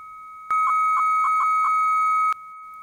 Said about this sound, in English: So that's sending from the originating modem to the answering modem.